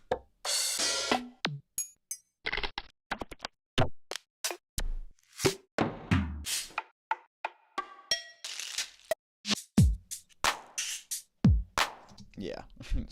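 Six-bar sampled music loop plays back as a choppy string of percussive hits, knocks and short bright stabs with irregular gaps, plus vocal snippets that may be part of the sample.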